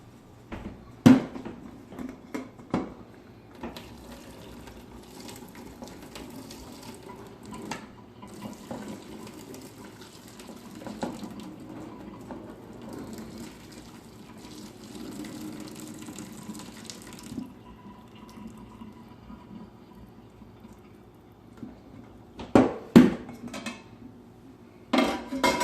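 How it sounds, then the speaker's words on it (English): Boiled gnocchi drained in a kitchen sink: a soft, steady rush of pouring water with faint clinks of a pot and utensils, and a few sharper knocks near the start and end. "drain the water."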